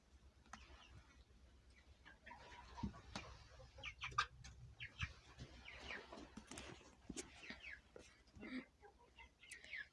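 A backyard flock of about two dozen chickens, including a feather-footed rooster, clucks and calls in short scattered bursts throughout, some close and some farther off, over a low steady background.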